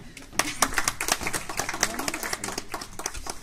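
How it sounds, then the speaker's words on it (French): Audience clapping at a live hypnosis show, a scattered burst of claps of moderate loudness with voices and murmurs mixed in beneath. "Vous pouvez l'applaudir."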